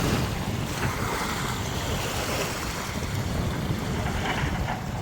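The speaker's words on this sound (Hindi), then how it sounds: "पानी में लहर तेज़ है" Strong waves washing against an eroding riverbank, a steady rushing and lapping water noise mixed with wind buffeting the microphone, continuous and fairly loud throughout.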